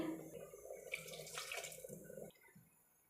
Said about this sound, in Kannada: ಈಗ ಸ್ವಲ್ಪ ನೀರು ಸೇರಿಸ್ಕೊಂಡು ಮಿಕ್ಸಿ ಜಾರ್ಗೆ ಸೇರಿಸ್ತೀನಿ